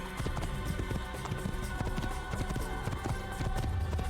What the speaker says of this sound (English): This is Peter the horse.